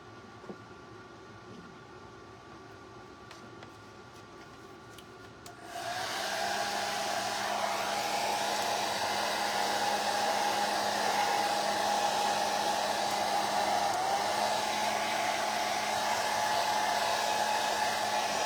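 A hair dryer blasts a steady, loud rushing whoosh over two wet pieces of an interchangeable sign, switching on after a quieter stretch and running continuously to the end.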